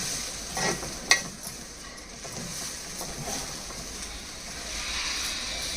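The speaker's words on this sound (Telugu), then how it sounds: "ఇదిగోండి చక్కగా వేగిపోయింది" Scrambled baby shark fish (sora puttu) fries in a pan with a steady, fairly soft sizzle and hiss, one sharp crackle early on, no voices.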